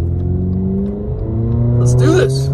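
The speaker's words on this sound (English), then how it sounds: "We're going to hit the gas." A car engine climbs in pitch as the vehicle accelerates on a snowy road near Big Bear Lake, a loud close whine from inside with a brief burst of noise near the end.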